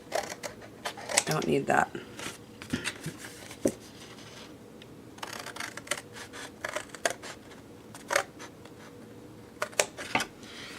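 Scissors snip through paper in short bursts of crisp cuts with a rustle of handled paper, and a voice speaks briefly between the snips.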